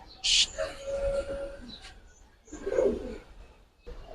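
Giribaz pigeons coo softly nearby in a loft, a few low rolling calls separated by short pauses, with a brief higher chirp near the start.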